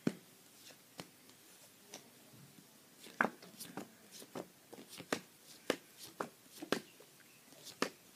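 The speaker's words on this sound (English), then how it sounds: "Okay, I'll shuffle it." Quiet, close riffling and tapping of a deck of playing cards being shuffled by hand for a card trick, a series of soft sharp clicks and flutters at uneven intervals with no talking.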